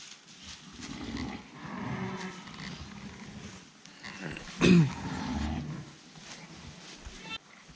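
Sheep and lambs in a sheepfold, several faint bleats scattered across the scene with one louder, closer bleat midway, amid quiet barn ambience.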